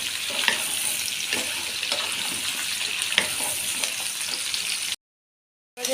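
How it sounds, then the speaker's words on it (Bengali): Pointed gourd and potato pieces fry with ginger paste in hot oil, a steady crackling sizzle with occasional stirring scrapes for about five seconds before cutting to silence. "আদা বাটা ভেজে নেব পটল ও আলু কিন্তু খুব ভালো করে ভেজে নিতে হবে"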